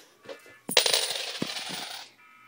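Quarters drop and clatter together in a bright metallic jingle, a dense cascade of coins lasting over a second after a few light taps, close and with no voices.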